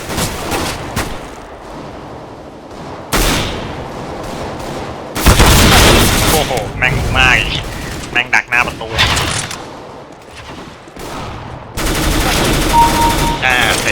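Bursts of automatic gunfire from Counter-Strike: Global Offensive gameplay ring out in several loud clusters and sustained volleys, with excited voices talking over the shooting.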